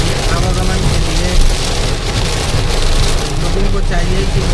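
Heavy monsoon rain drums on a moving car during a journey on the Sirali to Harda road, a loud dense hiss over the low rumble of the vehicle, continuous and close.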